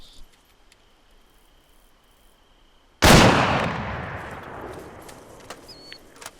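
Small-arms fire during penetration testing against lightly armored targets in the ArmA 3 video game: a single loud, close shot breaks a quiet scene and then echoes away in a long decaying tail.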